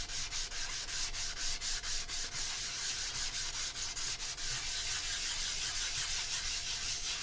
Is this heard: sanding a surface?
yes